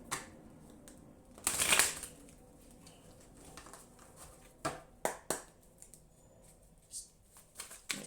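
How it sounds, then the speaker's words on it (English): A deck of cards being shuffled close by, a quick riffle burst followed by scattered soft snaps and taps of cards being handled, fairly quiet overall. "I'm gonna do one more shuffle."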